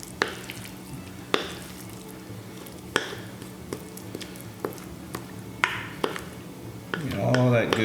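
A spoon scoops pie filling into a homemade flaky crust, giving repeated soft clinks and scrapes, each followed by a wet squish, ending in a thicker scraping rustle.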